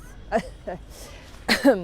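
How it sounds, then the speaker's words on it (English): Two short, rough coughs, the second louder and raspier, with a brief pause between them and no talk. "Sorry, it makes me cough."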